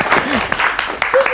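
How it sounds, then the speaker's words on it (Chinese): Audience applause for a child and his father who won a block-building contest, a short burst of clapping with voices talking over it. "我们一起给严朗和他爸爸鼓鼓掌"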